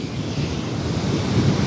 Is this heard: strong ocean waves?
yes